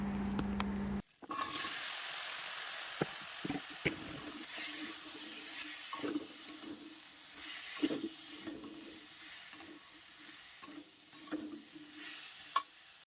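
Vegetable curry cooks in a pan with a soft ongoing hiss, broken by scattered clicks and light stirring knocks. A brief low hum sits at the very start.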